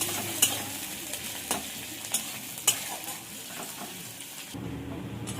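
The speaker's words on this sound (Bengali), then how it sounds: "পেঁয়াজটা একটু ভাজা ভাজা করে নেব।" Chopped onion frying in mustard oil in a wok, a steady close sizzle broken by several sharp spatula scrapes and knocks against the pan, then a sudden quieter stretch at the end, with no talking.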